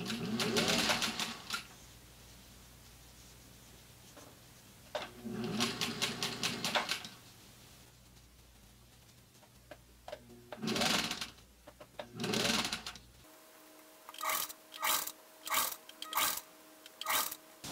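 A sewing machine stitching machine-knitted cardigan fabric runs in several separate bursts of rapid mechanical whirring, ending in a series of short, evenly spaced runs with brief pauses between them.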